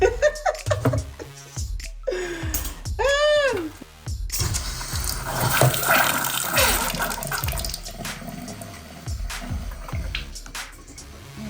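Water starts running from a newly installed bathroom sink faucet after squeaky handle turns, a steady splashing flow into the basin with light clunks, and brief talk at the start.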